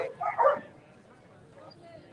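A dog barks on a busy downtown Toronto street, a short burst of yips near the start that fades into quieter street noise, with a voice talking over it.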